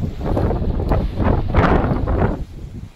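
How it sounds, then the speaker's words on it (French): Strong gusty wind blasting a microphone outdoors on an open shooting range, a steady broadband roar that swells in surges and dips slightly near the end, with no other sounds standing out. "On a vraiment beaucoup de vent."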